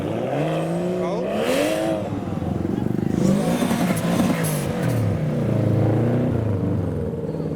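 A Mazda MX-5 revs and pulls away at a large car show, its engine note rising and falling through gear changes at close range while people talk nearby.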